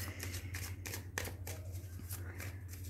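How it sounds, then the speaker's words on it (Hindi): A deck of playing cards shuffled by hand, heard as a steady run of soft, close riffling flicks over a constant low hum. "अच्छे से शफल करते हैं"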